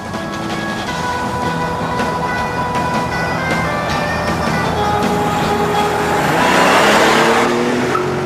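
A powerful Buick muscle car engine accelerates, its tone climbing and growing louder toward the end, with a steady mechanical drone underneath.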